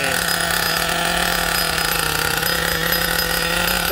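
An old RC car's engine is cranked with a starter box, giving a steady, loud, buzzing whir that runs unbroken for about four seconds with no voices.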